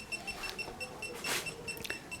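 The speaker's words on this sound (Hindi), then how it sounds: "इसकी बीप कम होती जा रही है, जूं ये आगे बढ़ता जाएगा।" A car parking assist sensor beeps in a steady series of short, evenly spaced electronic tones, close and moderately loud, with faint background noise.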